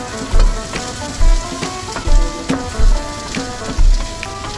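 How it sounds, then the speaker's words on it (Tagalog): Onion and garlic sautéing in a pan, a loud crackling sizzle with regular heavy stirring strokes roughly every second, no talk. "Igisa ko muna ito."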